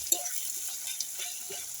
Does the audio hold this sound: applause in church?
no